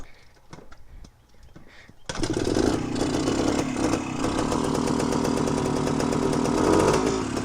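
Honda MT250 motorcycle engine starting after quiet handling noises, then running steadily and loudly with a rough, buzzy idle that continues to the end.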